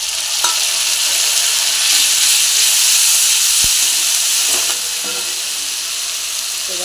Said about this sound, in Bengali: পেঁয়াজ ভাজা হয়ে গেছে। এবার দিয়ে দেবো আদা রসুন বাটা।